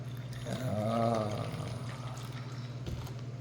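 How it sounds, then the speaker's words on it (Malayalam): Water poured in a short splashing stream for about a second, close and fairly quiet, then a soft trickle fading into a low steady hum. "കുറച്ച് വെള്ളം ഒഴിച്ച് കൊടുക്കാം"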